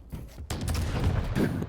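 Rapid shotgun blasts in the arena shooter Quake Champions, a loud burst of firing packed into under two seconds after a brief quiet gap, dense and near with no talk.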